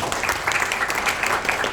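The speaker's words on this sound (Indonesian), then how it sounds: "Tepuk tangannya dong." Audience applause fills a corporate meeting hall after an announcement of fivefold revenue growth, a steady, dense wash of clapping that holds at an even level throughout.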